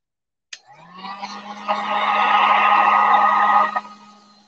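Hair dryer blowing to dry paint on a painted chunky bunny figure, switching on with a click and running as a steady whirring hiss that swells louder, then cutting off after about three seconds.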